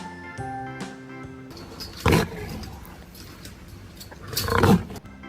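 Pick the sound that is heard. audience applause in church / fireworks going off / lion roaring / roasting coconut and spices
lion roaring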